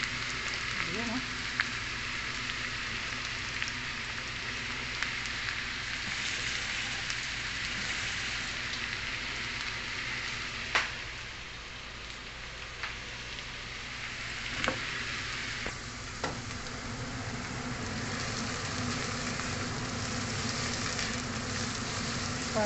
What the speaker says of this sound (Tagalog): More onions tayo. Fried onions.